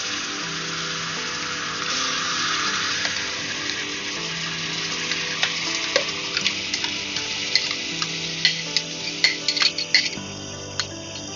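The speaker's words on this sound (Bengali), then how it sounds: "পেঁয়াজ বাটা দিয়ে দিচ্ছি" Onion paste fries in white oil and butter for a Bagda prawn Afghani curry, a steady close sizzle that carries on throughout while a spoon clinks and scrapes the pan more often toward the end; nobody speaks.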